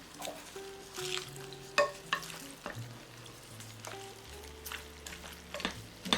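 Pepper steak with salt, sugar, bay leaf and pepper being stirred on a vintage Corningware Electromatic electric table range, soft sizzling under repeated spoon scrapes and knocks against the pot, close and fairly quiet.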